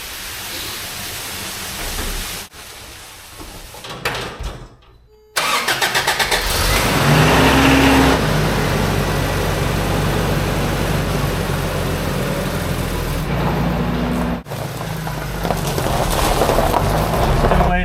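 A small Toyota pickup on a test drive with a newly installed gear set, its mid-pitched engine starting after a brief quiet and then running steadily and loudly with road and drivetrain noise throughout, no talk.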